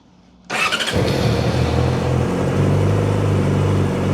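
A 2006 Yamaha R6 motorcycle engine cranks and fires abruptly after a moment of near quiet, then settles into a steady, loud, close idle rumble.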